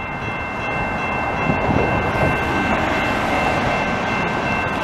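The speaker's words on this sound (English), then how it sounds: "This train is going right to the US." A CP freight train rumbles past steadily in Delson, Quebec, a loud, continuous roar of rolling wagons that holds for the whole stretch with no voices.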